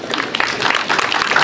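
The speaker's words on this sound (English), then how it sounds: "Can we appreciate them with a round of applause?" An audience at a 2022 college talent show claps and cheers loudly through the whole short burst, with crowd noise mixed in.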